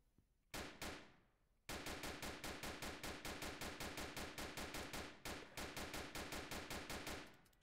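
Video game gunfire in Roblox Notruf Hamburg: a single loud sniper shot rings out, then a long burst of rapid automatic fire with a brief pause, sharp and close, with no talking.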